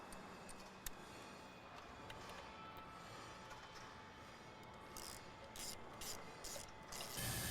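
A ratchet wrench tightening an 8mm bolt on the cold air intake of a 2022 Ford Bronco Raptor 3.0 EcoBoost, with quick runs of metallic clicking, close and fairly quiet, ending in sharper clicks.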